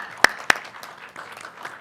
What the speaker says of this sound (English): please join me in providing and giving our board members a round of applause for their service